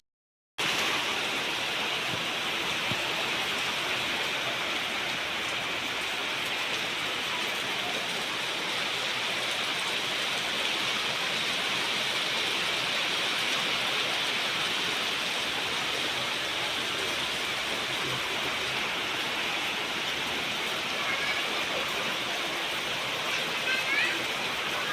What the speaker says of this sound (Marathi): जोरदार पाऊस पडतोय. गेले 2 दिवस सलग इतका जोरदार पाऊस चालू आहे.